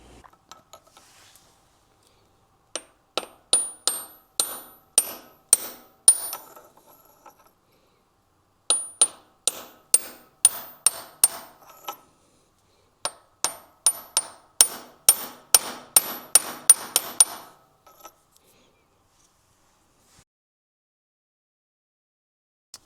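Metal-on-metal hammer strikes drive a motorcycle crank seal into its bore with a deep socket, coming in quick clustered bursts of sharp taps separated by short pauses, close and fairly loud with no talking.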